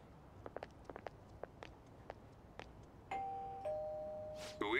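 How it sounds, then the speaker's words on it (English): A doorbell rings in the video game Persona 5 Royal: a two-tone electronic chime sounds clearly after a run of light tapping footsteps, followed by a brief rising musical effect. "You ring the bell."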